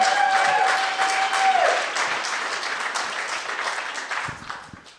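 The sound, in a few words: audience applause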